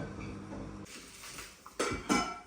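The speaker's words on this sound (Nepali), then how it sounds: "म चाहिँ क्विकली चिउरा भुट्छु" Beaten rice (chiura) being dry-fried in a pan, with metallic scraping and clinking of a utensil against the pan, a few sharper clanks near the end, close and moderately loud.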